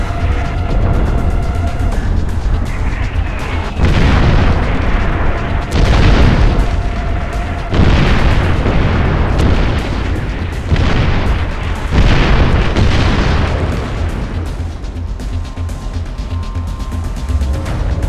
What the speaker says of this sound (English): Incoming. Find cover! Get to cover! That's artillery!